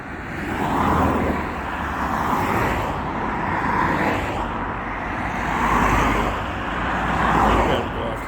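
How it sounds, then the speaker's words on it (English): Steady traffic rumbles along a busy road, a continuous wash of cars passing close by with swelling and fading waves of tire and engine noise. "This road is very, very busy all of a sudden."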